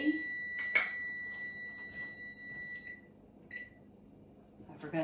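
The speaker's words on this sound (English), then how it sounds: "I forgot to turn the timer off." Kitchen timer beeping while a grain bowl with chickpeas and cauliflower is being cooked: a steady high electronic tone sounds over low background noise for about three seconds, stops, then returns as a brief beep.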